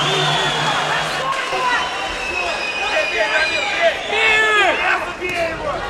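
Loud, dense crowd noise fills a mixed martial arts event venue, a steady roaring wall of cheering and shouting with swells of excited voices throughout.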